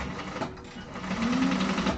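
A sewing machine runs continuously, basting a seam with a 1/8 inch seam allowance: a close, steady whirring drone of rapid stitching throughout.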